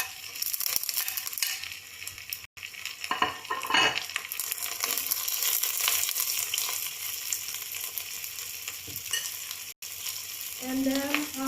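Green apple pieces sizzle steadily in a hot pan while a utensil stirs and scrapes through them. Frying hiss runs continuously, broken by a few louder stirring clatters, and no voices are heard.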